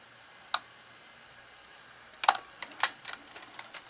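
Tape guides of a Panasonic NV-L21 VCR moving as the machine threads tape, heard as a sharp mechanical click followed by a cluster of quieter ticks and clacks, close up and otherwise quiet.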